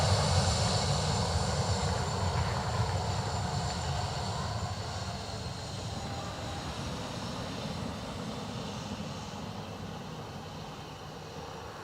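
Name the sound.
ATR turboprop airliner from Edinburgh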